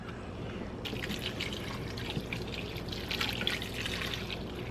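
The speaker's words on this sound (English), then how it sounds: "Now, I'm going to add some water." Bottled water pours into a pot of ham and bean soup with a steady splashing, bubbling stream that starts abruptly and continues close by, loud and unbroken.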